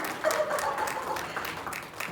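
Audience applause at a Uttarakhand community cultural festival in Japan: a steady wash of many hands clapping, moderately loud and continuous for about two seconds, with a few brief tonal sounds mixed in.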